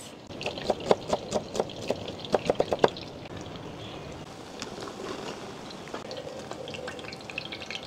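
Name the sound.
frying saluyot and labong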